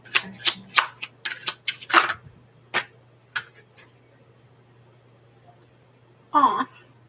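A tarot deck is shuffled for a card reading in a quick run of crisp riffling and tapping bursts, close and clear. The shuffling then trails off and a brief voice follows near the end.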